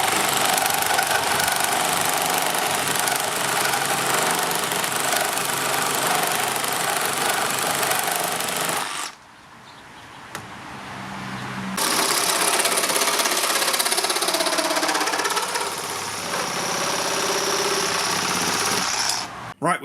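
Makita 40V second-generation reciprocating saw cutting at high speed, a loud, steady buzzing rasp running almost continuously, with one short pause partway through before the cutting resumes.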